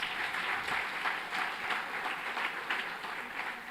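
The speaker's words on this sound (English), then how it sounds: "Please give another round of applause for our MTech awardees." Audience at a university convocation clapping steadily, a full sustained round of applause from a large crowd in a hall, even and continuous throughout with no voices over it.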